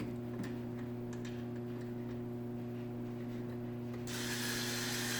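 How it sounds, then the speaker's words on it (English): A battery-powered screwdriver drives screws for cabinet knobs with a steady motor whine and fast ticking clicks, getting brighter and louder near the end. "Got my battery powered screwdriver."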